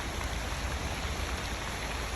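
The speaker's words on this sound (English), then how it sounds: "You got water running down from the mountains" Rainwater rushing down from the mountains in Death Valley during a flood, a steady, dense hiss of running water that stays even throughout, no talk.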